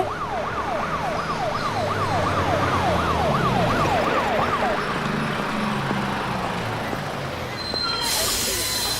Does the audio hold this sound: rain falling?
no